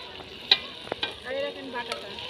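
Potatoes being stirred in a pan on a large stove at a picnic, with a few scraping knocks over a soft background sizzle, close and fairly quiet.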